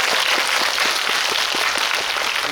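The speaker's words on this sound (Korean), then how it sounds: "고생하신 우리 정세 배우님께 박수 한번." A cinema audience at a film guest-visit event gives a steady, dense round of clapping for an actor, sustained evenly for the whole stretch without any voices over it.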